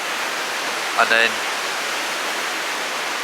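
A river rushes steadily through Glen Tilt in the wet Scottish hills, a broad, constant roar of flowing water with someone briefly speaking over it.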